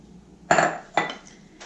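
A spoon stirs bread dough mixture in a bowl, giving two sharp clinks in quick succession and then a faint third tap.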